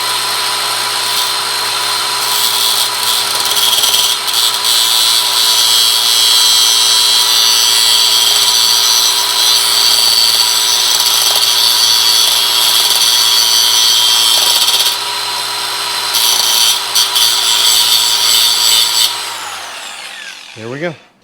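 A metal tang gripped in a vise being cut off for a homemade Yamaha CS5 timing tool, a loud, continuous high-pitched power-tool whine that runs steadily, dips briefly midway, then winds down to a stop.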